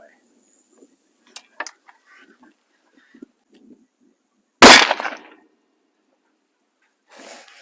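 A single loud, sharp gunshot comes from a Savage Axis rifle in 6.5 Creedmoor at an outdoor range, close by with a short decaying tail. It is set among quiet handling clicks and rustles.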